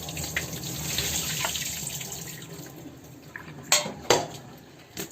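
Hot water is drained off soaked mushroom manchurian in a kitchen sink, with splashing and trickling water, clinks of pots and utensils, and a couple of sharper clattering knocks near the end.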